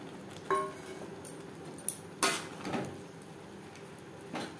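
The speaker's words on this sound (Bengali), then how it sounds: "মশলার সাথে বেশ ভালো করে মিক্সড করে দেব।" Fried potatoes and soybean chunks being stirred into spice paste in a pan for soybean curry, giving a few separate metallic clinks and scrapes of a spoon against the pan over a quiet background.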